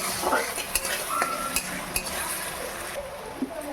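Chicken masala being sautéed with salt and a little sugar in a pan, making a steady low sizzle with scattered spoon scrapes and light clinks against the metal.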